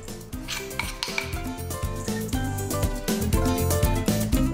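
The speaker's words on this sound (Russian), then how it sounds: "Берем черный кунжут и смешиваем его с овсянкой." Black sesame seeds are mixed into oatmeal in a bowl for energy bars, producing repeated clinks and scrapes of a utensil against the dish in an uneven rhythm, close and clear, with no one speaking.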